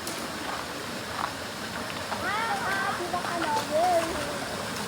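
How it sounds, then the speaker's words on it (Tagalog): Kawa Falls, a pool-shaped natural waterfall, pours in a steady, full rushing wash of water nearby, while voices talk faintly over it. "Ang tawag sa falls na ito ay Kawa Falls kasi parang kawa talaga siya"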